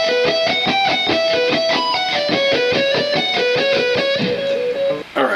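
An electric guitar with heavy distortion plays part of the first solo from a song at a slowed pace, a dense run of picked notes that is loud, close and continuous, with no talking.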